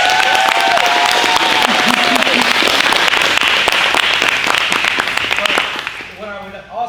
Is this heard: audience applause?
yes